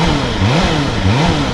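A BMW S1000RR motorcycle engine revving close by, rising and falling through two quick throttle blips over a steady rumbling idle, no talk.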